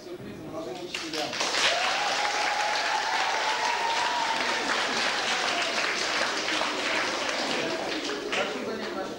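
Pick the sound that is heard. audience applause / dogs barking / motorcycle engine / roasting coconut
audience applause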